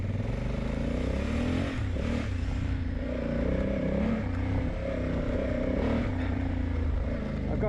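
A Honda Africa Twin DCT motorcycle pulls hard off road downhill, its engine droning loud and steady throughout with rough mechanical clatter and wind noise close by.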